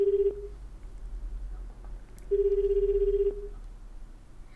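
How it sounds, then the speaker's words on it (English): Telephone call placed from the video game 428: Shibuya Scramble, with two steady electronic ring tones separated by a pause, each about a second long, alone over a low hum. "read a number off of one, and made a phone call"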